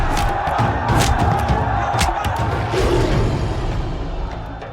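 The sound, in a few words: crowd erupting in cheers after a fight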